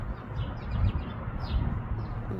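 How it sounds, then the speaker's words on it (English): Birds chirping outdoors in spring, perched in pairs: short, thin, high calls repeat a few times at moderate distance over a steady, low background rumble, with no talking. "Sound of the birds chirping their songs, talking to each other the way only they know."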